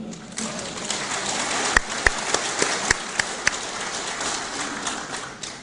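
Audience clapping at a 2009 Gyeongbuk regional lecture opening ceremony, a scattered round of hand claps with a few sharp louder claps standing out in a room, fading toward the end.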